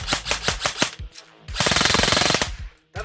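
A VFC MCX airsoft rifle fires several quick bursts up close, each a crisp rattling string of shots with the gearbox whirring, separated by short pauses.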